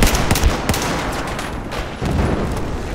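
Battlefield 4 gunfire: dense, loud, continuous bursts of rapid shots and blasts layered together in a close, chaotic firefight, with a heavier burst near the end.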